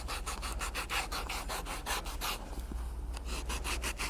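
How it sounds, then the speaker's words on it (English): Fine sandpaper rubbed around the edge of a glued piece for a saddle pad, quick regular back-and-forth strokes about five per second, steady and close, with no talking. "to sand completely around the edge to eliminate any glue and to make the edges more even."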